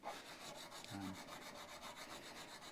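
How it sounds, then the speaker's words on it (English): Leveled frets on an Epiphone ES339 guitar are sanded with sandpaper, a faint, repetitive rasping rub in even strokes, close and quiet with no speech. "when we sand and polish out these leveled frets"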